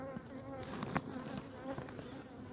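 Honeybees drone in a dense, continuous buzz from an opened beehive, close and steady, with brief louder swells as individual bees pass near, and no talking.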